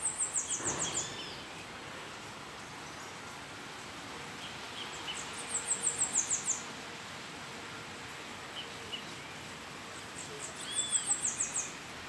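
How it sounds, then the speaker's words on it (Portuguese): Birds singing in the early morning after heavy rain, with faint high chirping trills recurring in short bursts over a quiet, hissy outdoor background. "Pássaro tudo cantando."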